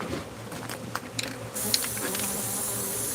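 Buzzing of remnant bees from a 20-year-old hive, a steady insect drone with a few sharper rises, close and continuous with no speech.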